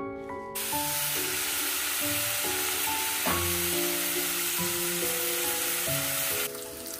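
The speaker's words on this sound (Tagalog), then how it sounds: "mapiprito tayo nitong pork" Pork belly frying in a pan, giving a steady, loud sizzle and hiss that runs throughout while a musical soundtrack of sustained tones plays over it.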